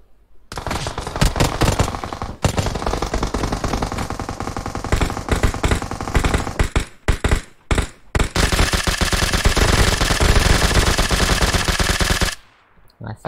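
Rapid automatic gunfire in the mobile battle royale game PUBG Mobile, loud sustained bursts broken by short pauses, with a brief quiet near the end.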